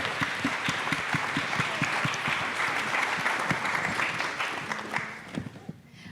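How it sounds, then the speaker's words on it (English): An audience claps for fellowship participants at a zoning and livability talk in Santa Fe, a steady dense round of applause that runs evenly for several seconds and then thins out and fades toward the end. "Let's give these folks a round of applause."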